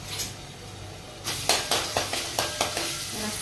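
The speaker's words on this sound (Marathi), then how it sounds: "तर चला आता अद्रक लसणाची पेस्ट टाकूया आपण रस्सा बनवायला बघा." Ginger garlic paste hits a hot pan for a fish curry gravy, giving a sudden burst of sizzling with several sharp hisses and spoon scrapes against the pan, close and fairly loud.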